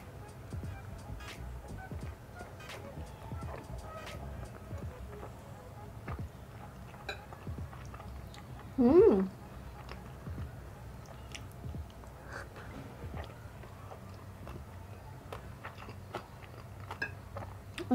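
Someone eating a fried egg topped with sriracha alongside kimchi rice, soft close chewing and biting sounds with one brief louder bite midway, over a quiet room hum.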